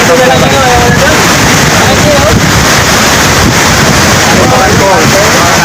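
Hulugan Falls waterfall roars as a loud, continuous wash, heavily buffeted by wind on the microphone throughout, with no talking.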